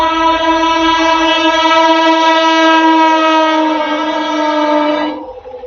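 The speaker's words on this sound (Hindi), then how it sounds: "महाबोधि एक्सप्रेस निकल रही है आनंद विहार रेलवे स्टेशन से" Long, loud horn of the Mahabodhi Express departing Anand Vihar railway station, holding steady for about five seconds before cutting off, with a rumble of rail noise beneath and no voices.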